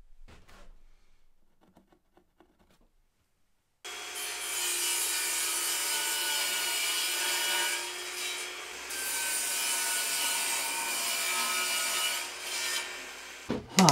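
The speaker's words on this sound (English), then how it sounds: "I think I'll get them cut on the table saw." Wood pieces are cut on a table saw, a steady loud whirring cut that starts abruptly after a few quiet knocks and runs for about ten seconds before stopping.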